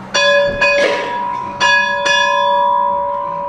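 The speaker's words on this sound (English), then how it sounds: "I get to ring the bell" A small church bell in a quaint little church at Elkamp Campground in Elbe is rung four times in an uneven rhythm, each bright, close, ringing strike leaving a long sustained tone that fades slowly.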